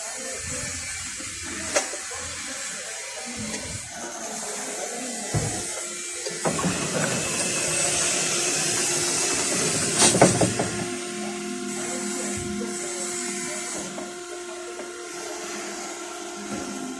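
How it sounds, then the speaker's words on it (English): The power pump of a Mitsubishi Electric forklift under battery repair runs with a steady electric whine and hiss, rising in the middle with a clunk before settling into a hum, with no voices. "we can hear the power pump, the main pump,"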